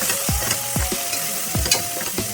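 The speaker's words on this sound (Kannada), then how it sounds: "ಇದಿಷ್ಟು ಹಾಕೊಂಡು ಸ್ವಲ್ಪ ಫ್ರೈ ಮಾಡ್ಕೊಳ್ಳೋಣ" Spice powders, chilli, coriander, cumin and garam masala, frying and being stirred in a pan for egg biryani: a steady sizzle broken by a few sharp scrapes of a spoon against the pan, close and moderately loud, with no talk.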